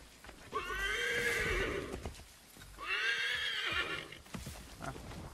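A horse in Assassin's Creed III neighs twice in long, loud whinnies about a second apart, with hoof clip-clop and game sounds around them.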